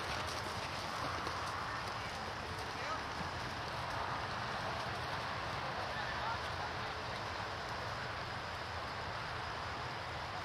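Horses' hooves clip-clop steadily across soft ground during a walking class at a horse show, mixed into a constant wash of broadband noise, with faint voices in the background.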